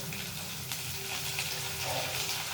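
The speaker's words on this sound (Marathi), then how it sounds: "लसूण थोडासा लालसर करायचा आहे" Garlic frying in oil, with turmeric added, while cooking a safflower leaf vegetable dish: a constant close sizzle and crackle with faint stirring, steady throughout.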